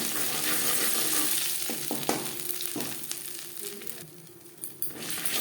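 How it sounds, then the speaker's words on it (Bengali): Whole cumin seeds fry in hot oil in a kadai, a close crackling sizzle broken by a few utensil knocks and scrapes, fading slightly toward the end, with no talking. "পনেরো কুড়ি সেকেন্ড জিরে ভেজে নেওয়ার পর"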